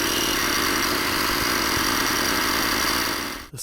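A Ryobi battery-powered bug fogger runs steadily outdoors in western Colorado, giving a loud, continuous motorized whir with a broad hiss. It cuts off abruptly near the end, and no one speaks.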